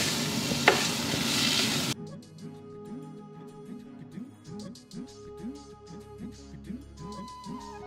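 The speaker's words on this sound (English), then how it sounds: "we have to constantly stir so it doesn't get burned" Spices, vegetables and potato fry in oil in a pan while a spoon stirs them, with a loud sizzle at first that gives way to rhythmic scraping strokes and softer frying underneath.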